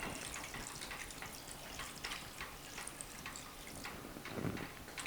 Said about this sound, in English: So I'm going to go ahead and add some water to it.